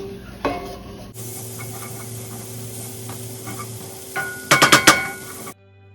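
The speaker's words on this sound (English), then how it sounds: "mix that flour into the butter in the pan and let that cook for about 2 minutes" Flour gets stirred into butter cooking in a pan: a soft steady sizzle under light scraping, then a cluster of sharp, loud clatters from a utensil knocking the pan near the end before everything cuts off.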